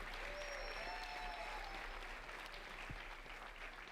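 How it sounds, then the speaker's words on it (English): Sustained audience applause at a Weslaco High School graduation ceremony honoring the Lady Panther softball team members, class of 2024, a steady dense clapping that fills the hall throughout with no speech over it. "A big round of applause for our Lady Panther team members,"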